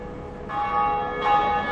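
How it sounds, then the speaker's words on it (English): A church bell in the game Dark Souls tolls twice, a bright ringing strike followed by a second louder peal that layers over the first's sustained hum, close and clear with no talk. "That's the first bell rung."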